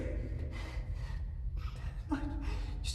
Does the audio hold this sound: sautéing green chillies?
no